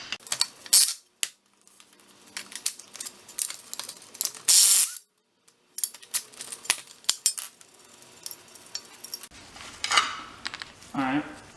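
Ratchet wrench clicking in quick bursts while 12 mm bolts come off an S13 240SX transmission mount, close and fairly loud, with a metallic clatter and pauses between runs.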